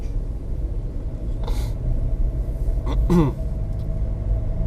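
A VW Move Up car climbs a hill while accelerating: a steady low engine and road rumble from inside the cabin, with a couple of brief knocks partway through and no voices.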